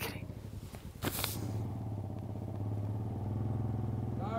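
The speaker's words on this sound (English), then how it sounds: "he tries to turn on the bike" A motorcycle engine catches with a sharp burst and then settles into a steady, close idle rumble that holds to the end.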